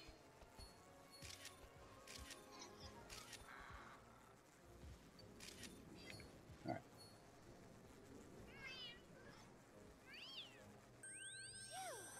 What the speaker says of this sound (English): I'm not expecting Sylveon to make cat sounds